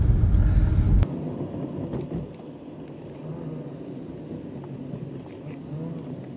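A car drives along on a cold day in the city, a low interior rumble that starts loud and then settles into a steady, muted hum.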